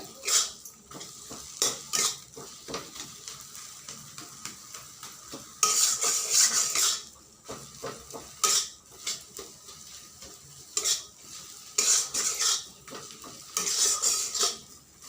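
Ginger fries in a pan while a utensil stirs and scrapes in quick clattering bursts, alternating with stretches of louder hissing sizzle, close up and without voices.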